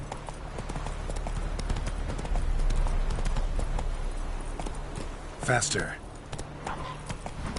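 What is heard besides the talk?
Geralt's horse Roach galloping, from video game The Witcher 3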